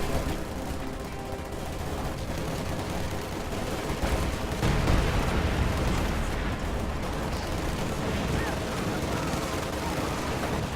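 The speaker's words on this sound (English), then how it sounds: "Incendiary artillery coming down on those overs." Incendiary artillery fire in a strategy war game, a dense continuous barrage of blasts and gunfire rumbling at steady loudness, swelling briefly near the middle, with faint voices under the battle noise.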